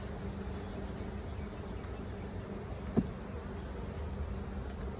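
A steady, dense hum of many honey bees buzzing close by, with one brief soft knock partway through.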